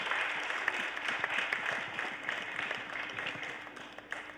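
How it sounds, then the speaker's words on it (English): Sustained, fairly soft applause from an audience at a literature festival, even clapping heard from some distance with a faint background hum. "So can we have a round of applause for Dr. R. Balasubramaniam and Gaurav?"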